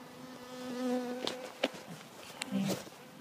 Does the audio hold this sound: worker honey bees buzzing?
yes